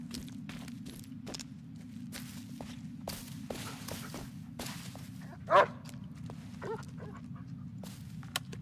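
In the Blair Witch video game a dog lets out one short bark about midway, set against steady footsteps crunching through the woods and a low background hum.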